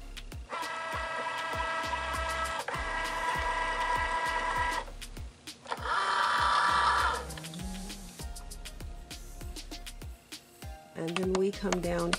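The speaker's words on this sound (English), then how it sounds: "we then load our vinyl into the machine." A vinyl-cutting machine loads a sheet of shimmer vinyl, giving sustained motor whirs and rhythmic mechanical clicks and thumps in several separate runs with pauses between them, close by and mixed with some talking.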